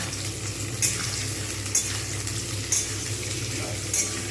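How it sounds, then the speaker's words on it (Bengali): Onions for biryani fry in hot oil in a kadai, a continuous dense sizzle with a few faint clinks of a utensil stirring, no talking. "গরম হয়ে গেছে তেল এইবার আমি এর মধ্যে পেঁয়াজটা দিয়ে দিলাম"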